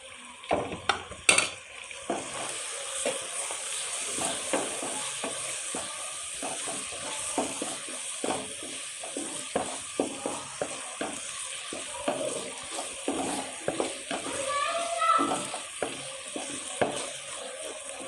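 Liver masala fries in a pan with a continuous sizzle, broken by frequent scrapes and clinks of a spoon stirring against the metal.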